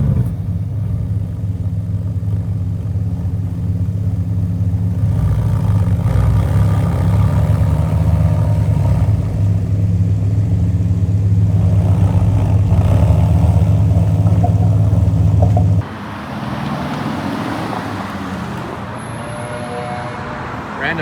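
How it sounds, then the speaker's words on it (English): A naturally aspirated V8 car being driven along a city street, its steady low engine rumble blending with surrounding traffic noise, with a brief shift in the background roar near the end. "It's good to see an exclusive naturally aspirated V8 being driven."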